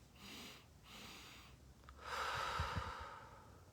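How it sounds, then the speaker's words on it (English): A slow, soft inhale drawn through the nose during a breathing exercise, breathy and close, rising in two gentle swells. "take that inhale through the nose"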